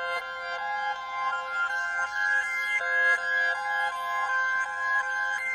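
Reversed Analog Lab synth melody pitched up a full octave and time-stretched, with no effects: a bright, bell-like tone swelling backwards in a steady looping pattern, clear and alone at moderate level.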